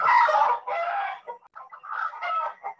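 A backyard hen calls in agitated bursts while going after a snake, loud clucking squawks in two or three close runs broken by short gaps.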